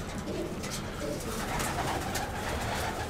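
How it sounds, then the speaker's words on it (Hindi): Pigeons coo steadily inside a loft as they gather to drink water, a close, dense layer of soft overlapping coos with no pauses. "ये देख सकते हैं दोस्तों, सारे कबूतर आ गए फटाफट पानी पीने।"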